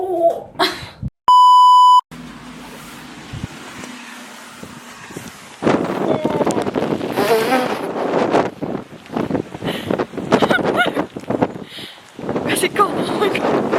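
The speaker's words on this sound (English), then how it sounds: "Don't think you guys understand how windy it is right now." Strong wind batters the microphone outdoors in loud, gusty roaring bursts after a short electronic beep, continuing in uneven waves throughout.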